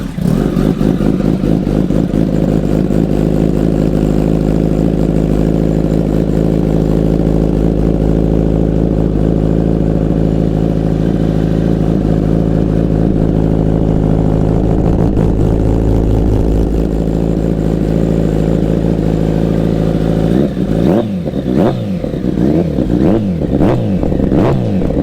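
A Suzuki GSXR 1000 grudge bike with a new exhaust runs loud and close, a steady throbbing idle that builds and then breaks into sharp rising and falling revs near the end.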